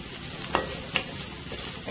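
Flat beans pan-roasting in a pan with very little oil sizzle steadily up close, with two quick clicks of a utensil stirring partway through.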